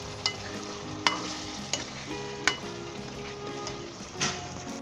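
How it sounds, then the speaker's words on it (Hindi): Chicken korma with kewra water is stirred in a pan, giving a steady low sizzle broken by sharp clinks of a spoon against the metal at irregular intervals, close by. "इसमें हाफ टी स्पून कौरमा ये केवड़ा डाल दें और अच्छे तरीके से इसे मिक्स कर दें।"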